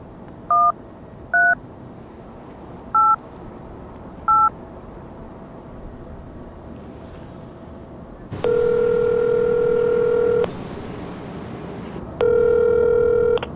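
A telephone dials a youth counseling hotline, 1388 in Korea: four short, evenly spaced keypad tones, then two long, loud ringback tones, heard alone without any talking.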